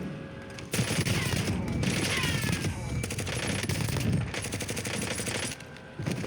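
A full-auto Grau rifle with a mono suppressor fires in Warzone, long rapid bursts of gunfire with brief pauses between them, loud and close over game background sound.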